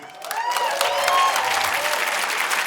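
A comedy audience applauds in a burst of dense clapping that swells and holds for a couple of seconds, with a few shouts mixed into the crowd noise.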